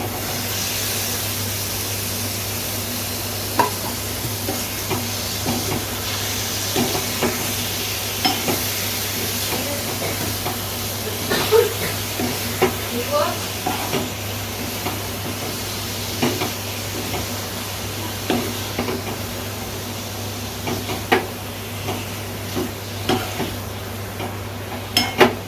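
Chicken liver fries in masala in a pan, a continuous close sizzle with occasional clicks and taps of utensils against the pan, steady throughout with no talking.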